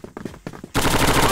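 A burst of rapid SMG fire in the shooter game Crossfire, loud and dense, taking over after a moment of softer in-game noise and faint earlier shots.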